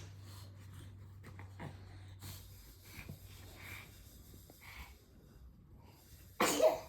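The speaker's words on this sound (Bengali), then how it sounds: "বই পড়তে পড়তে হাঁচি কাশি সব পাচ্ছে তোমার" A baby sneezes and coughs indoors while looking at a book, with a few soft close sounds and one louder burst near the end.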